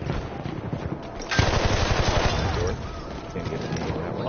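A Parabellum machine gun in Battlefield 1 rattles off a loud, close, rapid burst that starts sharply partway in and continues as sustained automatic fire amid battle noise.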